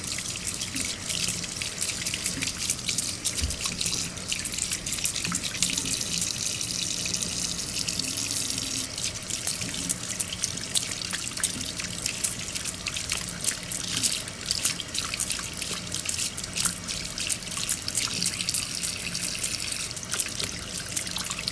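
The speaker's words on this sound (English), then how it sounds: "So let me turn on the faucet." Water runs from a sink faucet in a steady, continuous stream. It splashes and trickles evenly throughout, close and moderately loud, with no talking.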